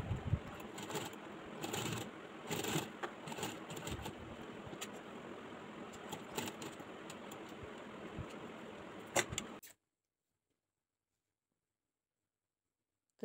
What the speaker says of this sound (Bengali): তো তার আগে আমরা একটা চাপ সেলাই দিয়ে নেব, যাতে ডিজাইনটা সেটে থাকে